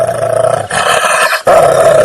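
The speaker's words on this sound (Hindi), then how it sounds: "भूत गुस्से में गुर्राने लगता है।" A ghost in a Hindi cartoon growls angrily in a loud, close, rasping roar, broken by a short pause and then resuming, with no talk over it.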